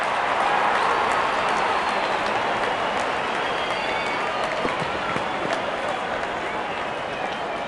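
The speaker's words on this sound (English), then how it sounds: "Wonderful 50, and the crowd applauds." Crowd at a cricket match applauding a batsman's fifty, a steady broad wash of clapping and cheering that holds throughout, dense and distant-sounding like a packed stadium.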